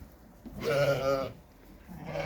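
Lambs bleat in a farm pen while being fed barley, one loud wavering bleat standing out clearly, with a fainter bleat starting at the end.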